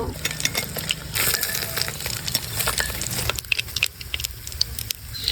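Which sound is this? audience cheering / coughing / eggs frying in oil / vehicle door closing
eggs frying in oil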